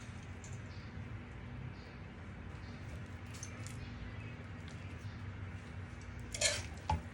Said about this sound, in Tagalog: ihalo na po natin ang sinaing na malagkit